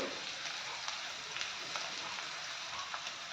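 Whole spices, bay leaf and curry leaves frying in hot oil for a coconut-milk vegetable stew, giving a steady, moderately quiet sizzle with small crackles and pops throughout.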